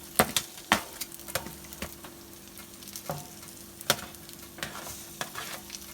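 Asian-style BBQ pork ribs sizzle in a pan while being turned, with a steady frying hiss broken by several sharp clacks and scrapes of the tongs spread across the moment.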